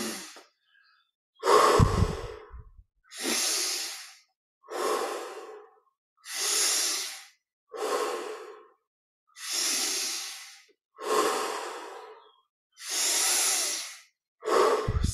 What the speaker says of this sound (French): un petit peu plus d'oxygène, un peu plus d'amplitude dans la respiration